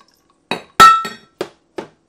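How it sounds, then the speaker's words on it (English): A handful of hard clinks as ice cubes drop into a Ninja Foodi blender jar, five separate knocks with short gaps between them. "Cup of ice."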